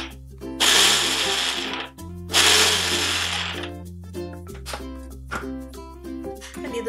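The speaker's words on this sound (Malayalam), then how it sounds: "ഇതെല്ലാം കൂടെ മിക്സിയിൽ ഒന്ന് ജസ്റ്റ് ഒന്ന് ചതച്ചെടുക്കാം" Kitchen mixer grinder pulsing coconut and curry leaves into a coarse crush for a tender jackfruit stir fry, two loud whirring bursts of about 1.5 seconds each, followed by the motor winding down.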